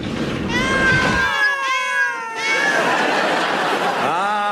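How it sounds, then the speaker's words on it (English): A radio comedy sound effect of a room packed with cats: several loud, overlapping meows rise and fall in a dense chorus, close and continuous. "A room full of cats, just as I thought."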